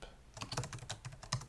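Typing on a computer keyboard while writing an HTML file, a quick uneven run of close, crisp key clicks at a steady pace, with no talking.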